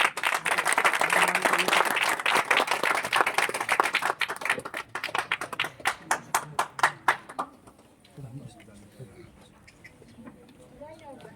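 Loud crowd applause at a village library inauguration ceremony, dense clapping for several seconds that thins into scattered individual claps and fades near the end, leaving quiet background.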